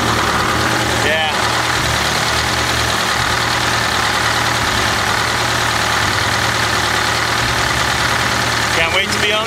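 Flxible bus engine idling steadily, a continuous low rumbling drone with constant vibration that carries on unbroken, close by, with a couple of brief clatters over it.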